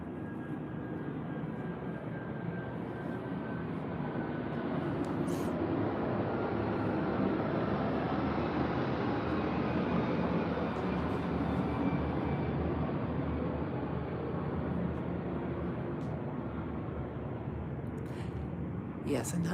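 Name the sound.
airplane flying overhead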